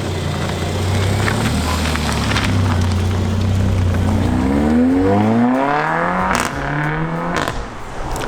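A Mercedes-AMG A45 pulls away with a loud, close engine roar that rises through the gears and then fades as it drives off.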